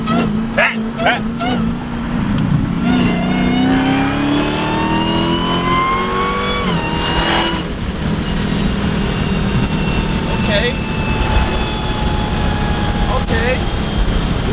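Dodge Hellcat engine revving hard and accelerating, loud and close, its rising whine climbing in pitch then settling into a steady high drone, with voices talking over it.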